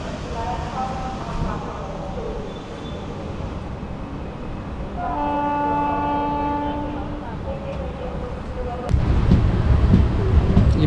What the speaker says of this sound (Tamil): அதோ இப்போ வண்டி ஓடுது பார்த்தீங்களா